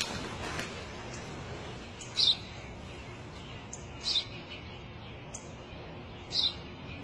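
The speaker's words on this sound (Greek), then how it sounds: "Ένα σπουργίτη είναι, πατέρα. Ένα σπουργίτη." A sparrow chirps three times, each chirp short and sharp and spaced roughly two seconds apart, fairly faint over a quiet, hissy background.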